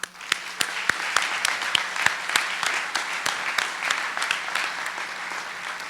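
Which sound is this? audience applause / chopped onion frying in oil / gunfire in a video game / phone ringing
audience applause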